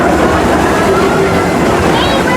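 A train on the Six Flags theme park railroad rolls along with a loud, continuous rumble and faint rhythmic clatter, a thin squeal rising near the end, with voices murmuring underneath.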